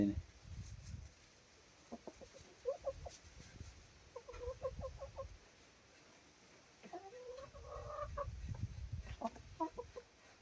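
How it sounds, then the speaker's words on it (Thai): Hen clucking softly before laying an egg, with repeated short clucks and low cackling bursts from close by amid quiet background noise. "เบิ่งกันกล่อมให้ไก่มันไข่"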